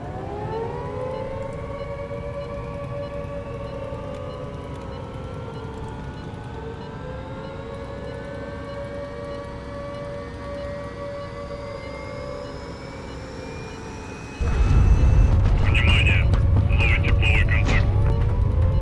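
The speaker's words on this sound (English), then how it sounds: "You can hear the sirens." Air raid sirens wail in the naval strategy game HighFleet, with several long, rising tones overlapping and sliding steadily upward. Near the end a sudden loud, rumbling burst of noise cuts in over them.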